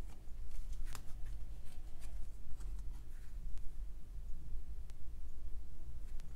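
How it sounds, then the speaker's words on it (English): A Piatnik Tarot de Marseille deck is flipped through card by card, giving soft, close, irregular papery flicks and snaps over a steady low room hum. "I'd just do a bit of a flip through of this deck"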